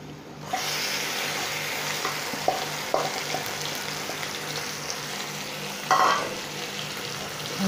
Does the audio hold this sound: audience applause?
no